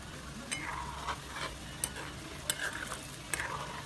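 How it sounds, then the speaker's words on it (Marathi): Pieces of sweet shankarpali dough fry in oil over a medium gas flame, making a soft continuous bubbling sizzle punctuated by light scraping and clinking as they are turned. No voices are present. "ह्याला आता तळून घ्यायचं आहे बघा असं मीडियम गॅस करायचा"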